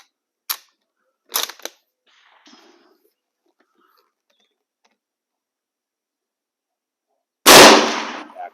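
A 1905 or 1919 M-96 Swedish Mauser military rifle fires a single loud, close shot near the end, preceded by a few sharp mechanical clicks and faint handling noise.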